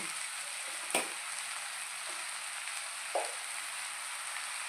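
Ginger paste and masala sizzle in hot oil for egg fried rice, a steady high frying hiss with a few faint stirring clinks, no talking.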